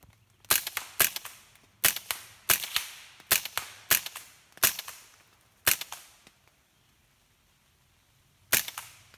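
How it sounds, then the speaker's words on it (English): An AR-15 rifle converted to .22 long rifle fires a series of about ten sharp, close cracks in a quick uneven rhythm, then pauses before one last shot. "let's have a shot with Lindsay's AR-15"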